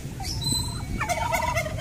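Mature turkeys kept in a cage gobble in a quick, rattling burst that rises out of steady background noise, close and moderately loud, with no speech.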